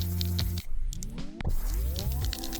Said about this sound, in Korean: 잘 흔들어 준 다음에 소재에 스프레이를 합니다.